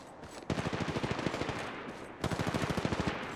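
Automatic gunfire in a video game, two loud close bursts of rapid, evenly spaced shots separated by a short pause, with no voices over it.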